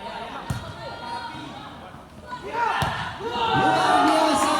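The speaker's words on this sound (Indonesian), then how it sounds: "Luar biasa pukulan keras." Hard spikes and ball impacts ring out in a students' volleyball match in West Sumatra, sharp thuds at intervals over a lively crowd with commentary talking throughout.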